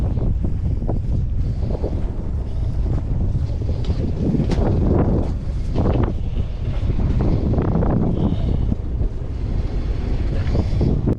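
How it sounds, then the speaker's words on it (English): Sailboat engine revving harder with the propeller in reverse while setting anchor near an uninhabited island, a loud continuous low drone mixed with wind buffeting and water wash, steady throughout with no talk. "Now you'll hear me giving the engine more throttle, which is while the propeller is in reverse."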